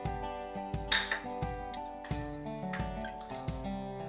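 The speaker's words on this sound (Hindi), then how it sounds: "सबसे पहले एक जार हम लेंगे, उसमें हम लहसुन डालेंगे" Peeled garlic cloves drop into a grinder jar in a quick run of light, close clinks and taps, several small hard knocks spaced about half a second apart.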